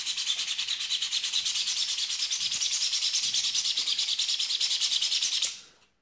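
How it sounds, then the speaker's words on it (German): Steady hand sanding of a 3D-printed tail hatch for a model submarine, a continuous bright scratchy rubbing held close and loud for about five seconds before stopping abruptly, with no talking. "Was noch fehlt zu meinem U-Boot, das ist die Heckklappe. Und diese schleife ich jetzt einmal an."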